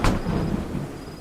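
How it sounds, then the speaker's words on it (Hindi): A thunderstorm with heavy rain begins on a sudden loud thunderclap that rumbles on briefly under a wash of rain. The burst is short, with no voices. "बारिश भी बढ़ चुकी है।"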